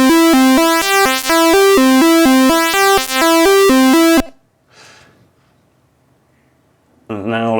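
A square-wave chiptune scale played in the maxYMiser tracker: bright buzzy stepped notes rise and fall in a quick even run, then stop, followed by a brief quiet pause with speech and another short tone at the end.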